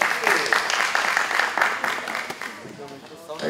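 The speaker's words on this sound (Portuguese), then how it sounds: "Palmas!" Audience applause at a Black leadership forum plenary: clapping swells for about two seconds, then thins out as a voice speaks over the tail.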